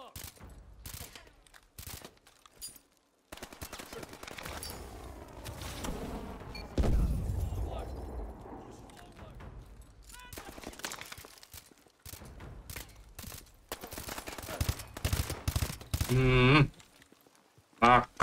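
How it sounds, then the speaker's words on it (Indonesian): Gunfire in Call of Duty Advanced Warfare, sharp shots and bursts scattered across the stretch with a denser volley near the end, heard alongside in-game sounds and intermittent voices. "nembakin Gideon."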